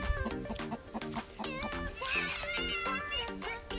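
Hens in a coop cluck in short repeated bursts close by, mixed with the busy voices and play of children nearby.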